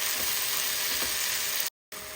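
Chopped spinach and onion fry in a pan for palak chana dal, giving a steady close sizzle with faint scraping from stirring and a brief total cut near the end.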